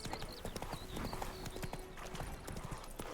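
Hooves of Roach, a horse in The Witcher 3, clip-clop quickly in a rapid galloping rhythm near and clear, with a brief whinny-like tone and faint game ambience.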